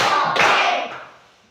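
A class of pupils doing the 'tepuk ceria' clapping routine: a short, loud burst of hand claps that cuts off and fades out quickly, with no talking.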